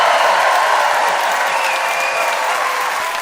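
Audience applause for the debaters at a live comedy debate show in North Vancouver, a dense, steady wash of many hands clapping close and loud throughout, without speech.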